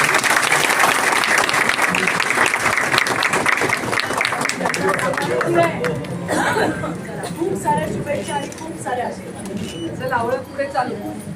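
Sustained applause from an audience at a civic gathering of municipal corporators in Solapur, dense clapping throughout with crowd chatter mixed in, loudest at the start and thinning slightly toward the end.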